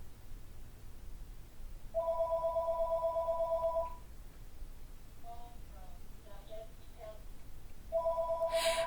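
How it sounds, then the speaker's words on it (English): A phone rings with a two-tone electronic ringtone, a two-second burst followed by a pause with faint rustling, then the ring starts again; close and clear, with no talking over it. "Why are people calling me right now?"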